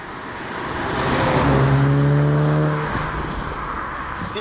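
A 2018 Mk7.5 Volkswagen Golf R with a 2-litre turbo engine drives past. The engine note swells as it approaches, holds a droning tone at its loudest, then fades away against steady road noise.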